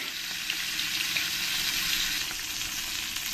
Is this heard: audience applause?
no